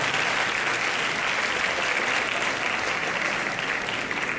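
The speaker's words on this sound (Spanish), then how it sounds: "Si ustedes siguen aplaudiendo, yo me voy a ir." An audience at an education lecture breaks into dense, sustained applause: many hands clapping loudly and continuously throughout, with no voices standing out.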